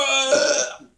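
A single loud, drawn-out burp after drinking Crystal Pepsi cola, close and resonant, fading out in under a second.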